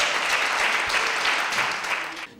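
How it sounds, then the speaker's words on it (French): An audience at a slam poetry stage in a library applauds a poet with a dense, steady round of clapping that fades away at the end. "Applaudissez le poète, s'il vous plaît"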